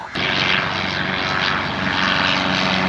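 Propeller airplane engine roaring steadily at close range, a loud continuous drone with a sudden onset as it passes over, alone without talk.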